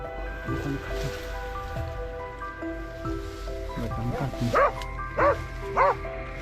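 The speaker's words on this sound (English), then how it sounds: "the sudden barking of hunting dogs signaled the beast's location." Hunting dogs bark near a rice field while tracking a wild boar, with a few scattered barks first and then three loud, evenly spaced barks close by over a rainy, noisy background.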